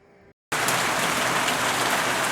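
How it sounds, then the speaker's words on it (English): A short burst of outdoor rain cuts in after a brief moment of quiet, then pours as a loud, close, uniform hiss of drops with no break and no talking. "So it just started raining here."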